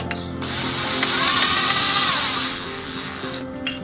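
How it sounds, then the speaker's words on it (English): A power tool runs steadily for several seconds, driving bolts tight on a Fiat 500 engine during timing belt and head gasket work, with a whirring, ratcheting tone close by. "So I'm just initially just going to tighten these up."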